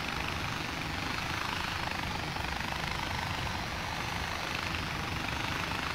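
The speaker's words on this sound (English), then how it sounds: "Stupid helicopter?" A helicopter in the video game Far Cry 4 drones steadily with a continuous whirring rotor and engine roar throughout, loud and unbroken with no talk.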